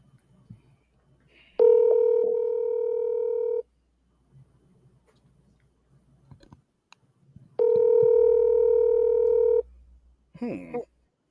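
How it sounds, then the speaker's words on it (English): Two long electronic ringback tones sound over a phone call, each about two seconds with a steady buzzing pitch, separated by quiet gaps, with a brief chirpy burst near the end. "let me know if you can hear it ringing"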